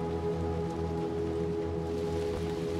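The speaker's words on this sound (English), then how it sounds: "it's still raining" Steady rain in the video game Little Nightmares 2 patters on a surface, a dense even hiss with no voices.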